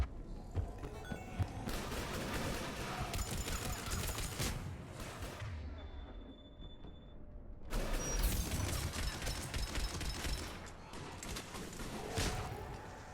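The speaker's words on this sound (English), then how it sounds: "Foxtrot and Bravo are taking heavy fire." Heavy gunfire rattles through a Mass Effect 3 battle, dense bursts of shots and mechanical clatter running almost continuously, with a brief lull midway before the firing surges back.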